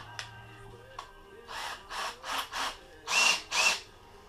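An electric drill whirs in several short, rhythmic bursts that grow louder toward the end, each with a rising motor pitch, tapering a bamboo arrow shaft for a selfnock.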